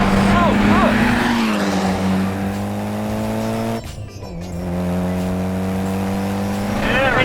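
A Mitsubishi Evo driven hard around Virginia International Raceway, its engine droning loudly through sustained revs with a brief drop as it shifts gear, a voice talking over parts of the run.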